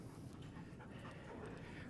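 A trained dog at a training kennel pants steadily with soft breathy whimpers, faint and close against a quiet background, with no one talking during it.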